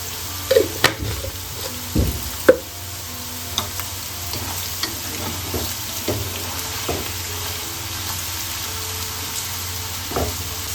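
Vegetables for no-onion, no-garlic vegetarian fried rice frying in a pan with a light salt, a steady close sizzle broken by several scraping stir strokes of the spatula, alone without talk.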